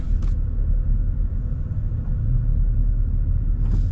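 Deep, steady low rumble of a Ford V8 engine, either the 7.3L or 6.8L, heard from inside the vehicle, a continuous heavy drone with slight swells and no voices.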